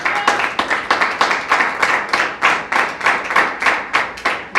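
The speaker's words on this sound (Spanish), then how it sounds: "Denle un aplauso a Él." A church congregation claps in unison, a loud, rhythmic series of sharp, evenly spaced hand claps repeating steadily throughout, close and without speech.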